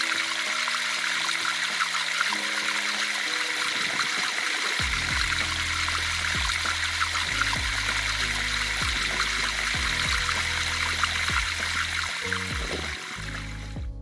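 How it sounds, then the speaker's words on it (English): A sump pump moves spring meltwater from a flooded yard into a ditch: steady rushing, trickling water throughout, joined partway through by a low, droning pump hum, close and continuous. "grabbed a sump pump, threw it in there, and started pumping the water out of the yard and into the ditch"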